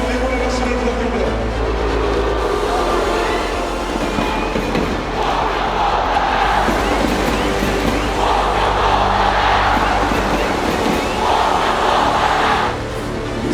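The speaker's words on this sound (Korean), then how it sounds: "최선을 다한 우리 전사들에게 아낌없는 응원의 박수를 부탁드립니다." At a football stadium, a large crowd roars and applauds the players. A thick, continuous wash of cheering and clapping swells in waves, with a low rumble underneath and an amplified announcement at the start.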